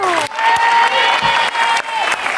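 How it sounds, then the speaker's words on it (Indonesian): A studio audience on the Indonesian game show Family 100 applauds and cheers, loud and continuous, with sustained tonal music or stings running through and a few sharp accents. "Tepuk tangan dulu untuk mereka."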